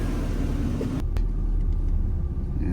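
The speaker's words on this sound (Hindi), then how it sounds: "ये देखें, आपको ये गाड़ी चला के दिखा रहा है।" A car engine rumbles steadily as the car is driven at a Saudi driving licence test centre, close and fairly loud, a low continuous drone with a couple of brief clicks near the middle.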